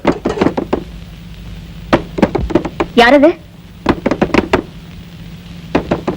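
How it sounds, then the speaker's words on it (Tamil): Sharp knocks on a door come in quick bursts of several raps, pausing and then resuming, loud and close, while a voice calls out briefly in between. "எங்க கதவு தட்டுறது யாருன்னு சொல்ல மாட்டீங்களா?"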